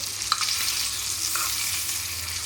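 Salmon frying in a pan while hot fat is spooned over it, a steady close sizzle with a few light scrapes and clicks near the start.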